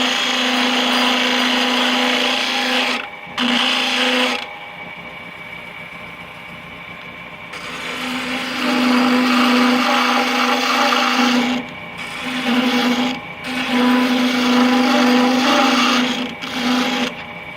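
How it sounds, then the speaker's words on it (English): A wood lathe spins a piece of mystery wood for a Halloween box while a detail gouge cuts against it, making a sustained whirring hum that stops and restarts several times in loud, close bursts. "I doubt very seriously this detail gouge will do it"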